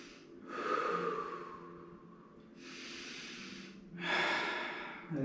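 Deep, slow breaths taken during a shoulder and arm stretching exercise, three long airy inhale-exhale swells, close and clear with no talk.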